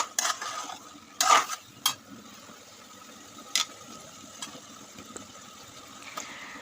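Eggplant, tomato and other vegetables stir-fry for a dried-fish labra, with a soft, low sizzle and scattered clinks and scrapes of a spoon in the pan.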